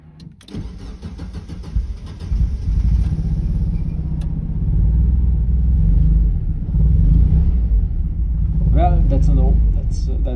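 A Mazda Miata engine fitted with Audi R8 coil packs idles roughly while firing on only two cylinders, a loud, uneven rumbling chug that runs steadily throughout.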